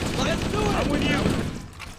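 Rapid gunfire bursts in Halo: Combat Evolved during the Truth and Reconciliation mission, loud overlapping shots with whining energy-weapon tones, tailing off toward the end.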